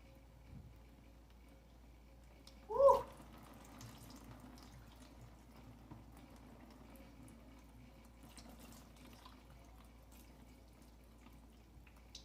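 Cold water runs off wet curly hair as a faint, steady trickle through a quiet room, with one brief louder splash near the start.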